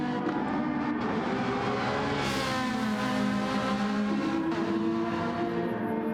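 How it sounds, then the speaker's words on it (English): Race cars including a Ferrari lapping the Dragon Trail Seaside circuit in a racing video game, a continuous loud engine drone with rising and falling revs and no talk. "Blue flames coming out the back of Dyson's Ferrari."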